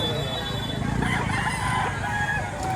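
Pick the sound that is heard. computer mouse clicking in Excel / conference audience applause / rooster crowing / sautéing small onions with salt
rooster crowing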